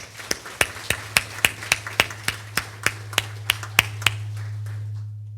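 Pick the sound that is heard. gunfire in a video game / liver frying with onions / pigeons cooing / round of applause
round of applause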